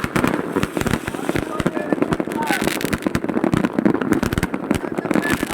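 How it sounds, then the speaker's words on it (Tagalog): New Year fireworks in Greenland, a dense barrage of sharp cracks and booming bursts firing rapidly and continuously at close range, with people talking and cheering underneath. "Ganyan sila kagalante sa ano, fireworks guys."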